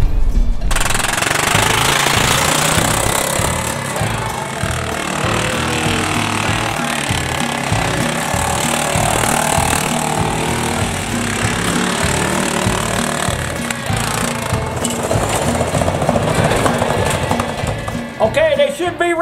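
A gas-powered lawn mower engine fitted with a grill runs steadily and loudly close by, its rough, chugging drone holding an even level from start to finish.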